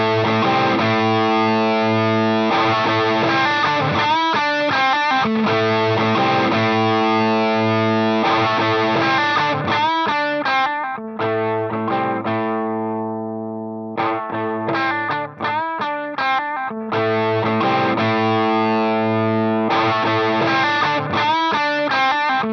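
Electric guitar through a Boss ES-8 switching system with a Dumble-style overdrive pedal, loud sustained distorted chords strummed in a steady rhythm with brief pauses, played alone.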